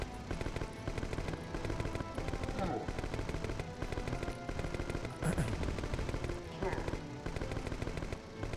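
Rapid gunfire from the Croc 2 boss fight against Baron Dante on PS1, a dense, continuous run of shots with game music over the full stretch, steady and loud throughout.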